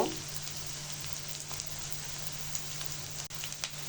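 Onions fry in oil in a kadai (wok), a continuous close crackling sizzle with scattered small pops and spits throughout, no voices.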